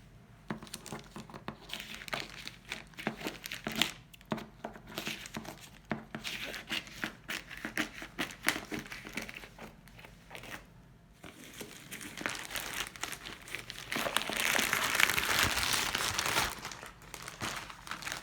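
Thick plastic packaging of a Golden Mermaid diamond painting kit crinkles and tears continuously at close range, with rustling bursts that swell louder toward the end.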